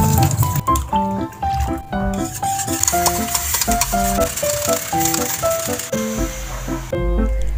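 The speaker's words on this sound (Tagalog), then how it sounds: "Gagamit ako dito ng 24 grams or 1 sachet ng Menu Magic mango chunks at tutunawin natin ito sa tubig hanggang sa ma-dissolve na yung powder." Mango chunks powder being stirred and dissolved in water, giving soft liquid swishing and stirring sounds with an occasional clink, heard close up under steady background music.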